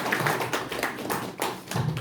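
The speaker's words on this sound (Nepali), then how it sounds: "ताली बजाउनुहोस् हजुर" An audience at a Brahma Kumaris stress-management session claps together in an indoor hall, a run of fairly quick, soft, fairly even hand claps lasting a couple of seconds with no talking.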